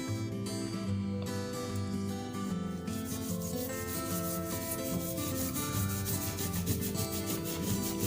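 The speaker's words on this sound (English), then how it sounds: "Now rub this mud." Steady, continuous rubbing as mud is smeared over a letter in a children's phonics activity, heard close and constant beneath background music.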